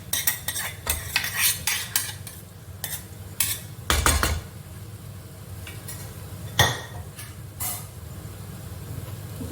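Egg bhurji stirred into fried masala in a pan for egg fried rice: repeated metal spoon scrapes and clanks against the pan come in quick bursts over a low background sizzle, loud and close.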